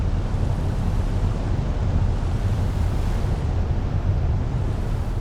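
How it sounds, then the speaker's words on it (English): Rough open-ocean waves in the Ships at Sea video game, a steady loud roar of surf and wind-driven water with no letup and no voices. "It seems to just always be rough ocean, even when you get closer to the shore."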